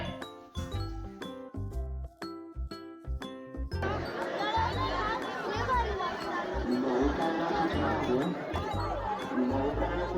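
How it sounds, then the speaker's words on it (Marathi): A large crowd of devotees fills the temple at Tuljapur, with dense continuous chatter and babble; before that, loud rhythmic percussive hits ring out, then the crowd noise swells and holds steady throughout. "डिसेंबर एंडिंग असल्यामुळे तुळजापूरमध्ये भाविकांनी प्रचंड अशी गर्दी केली होती"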